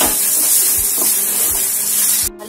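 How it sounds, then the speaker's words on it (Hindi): Chopped onions hit hot oil in a pan for a spiced okra and onion dish, giving a loud, continuous close-up sizzle and hiss with faint stirring thumps underneath. "ऑयल के गर्म होने पर आप इसमें कटे हुए प्याज डालें।"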